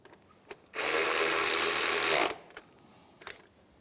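A ratchet snugs a bolt on the power steering pump of a 2003-2011 Honda Element, one continuous close burst of rapid buzzing clicks lasting about a second and a half, with faint clinks before and after and no talking.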